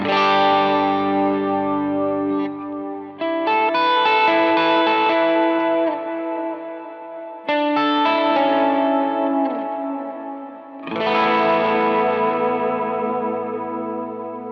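Distorted electric guitar chords ring out with a heavy echoing dual delay ping-ponging side to side, repeats trailing after each strum across several phrases, loud and alone.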